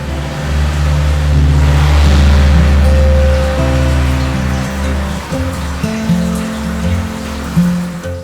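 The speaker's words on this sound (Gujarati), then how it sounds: "પવન બહુ આવે છે અહીં જવાતું નથી એટલો પવન આવે છે ને વરસાદનો પવન ને વાયરો આવે છે" Strong wind and rain buffet the deck of a RoRo ferry crossing from Hazira to Ghogha, a loud, continuous roar with a deep steady engine rumble beneath it and no voices.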